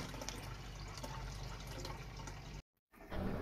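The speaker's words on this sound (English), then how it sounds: "Now ready to put the water." Water is poured slowly into a new guppy aquarium, giving a continuous gentle splash and trickle close by, cut by a brief silent gap before resuming.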